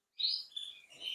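A canary gives a short, bright chirping call indoors, a quick burst of high tweets lasting about a second, clear and close with no talk.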